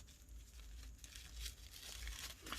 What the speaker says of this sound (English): Crumple it all up.